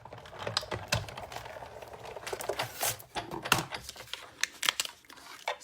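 Scissors snip through card stock, cutting out small paper pieces for a Stampin' Up sweets-jar greeting card. Crisp, close clicks and crinkles keep coming in quick, uneven bursts for the whole stretch, with no talking.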